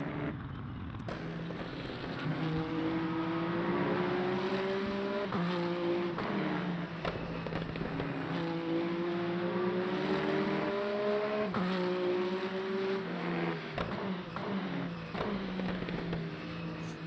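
Peugeot race car in the video game Le Mans Ultimate, with a steady engine drone rising and falling through gear changes and scattered sharp exhaust crackles and pops over the full run.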